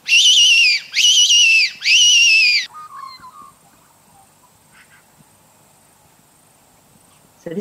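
A fox-calling whistle blown three times in quick succession, each a loud, bright, warbling squeal of about a second, followed by quiet outdoor ambience with faint birds or insects.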